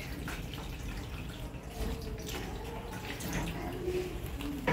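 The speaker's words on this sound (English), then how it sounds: "Rinse hands with water downward to remove all the soap." Tap water runs into a sink while hands are rinsed during a handwashing demonstration, a soft, steady splashing stream with small irregular spatters, fairly quiet and with no talking.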